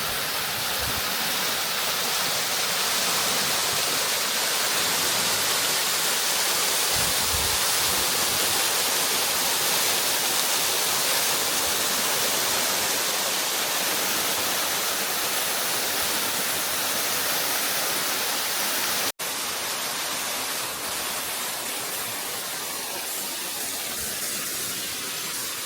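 Kegety Waterfall in Kyrgyzstan's Kegety Gorge, a steady, broad roar of falling water heard from nearby, loud and unbroken for the whole stretch, with no voices.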